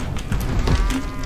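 Cows moo loudly in the video game Rock of Ages 2, a low bovine call rising over busy, dense in-game noise.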